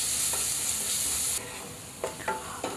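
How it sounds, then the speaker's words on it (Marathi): Ginger garlic paste sautéing in hot oil in a pan, a soft steady sizzle with a few brief stirring scrapes near the end. "आता आपण ह्याच्यामध्ये आलं लसूण पेस्ट घालणार आहोत, 1 चमचा आलं लसूण पेस्ट, आणि ही सुद्धा मिनिटभर आपण परतून घेणार आहोत तेलावर"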